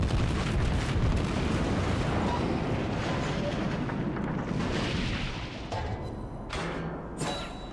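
Battleship main guns firing in World of Warships, a tier 6 American New Mexico battleship in play: a sustained rumbling roar of heavy gunfire and explosions, with a few sharper bursts near the end.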